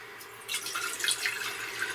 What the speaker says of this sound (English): I'm going to pour some into a glass jar that I'll be drinking here shortly